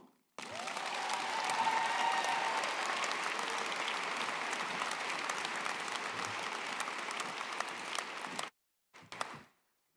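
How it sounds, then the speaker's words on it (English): A large audience at a Scott Community College commencement at the TaxSlayer Center claps in sustained, even applause for the graduation speaker, holding steady for about eight seconds before stopping abruptly. "Please join me in giving a warm welcome and applause to our Scott Community College graduation speaker, Monifa Ponton"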